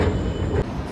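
A train runs through a metro station on the Pink line, a close, steady rumble of rolling wagons and wheels with a brief dip partway through; no talking.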